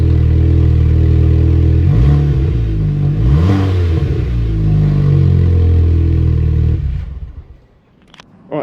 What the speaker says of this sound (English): Give it a blip. Rev it!